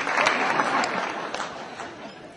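An audience claps at a political talk: a brief burst of applause, moderately loud and fading over a couple of seconds, with a voice speaking over it.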